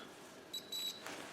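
A digital multimeter set to continuity test mode beeps while probing wiring on a diesel generator's shutdown circuit: two short, thin electronic tones in quick succession, fairly faint and close, with no talking.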